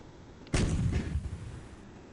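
A volley of artillery fire in The Alamo video game, a single sudden booming blast with a rumbling tail that fades over roughly a second, heard alone.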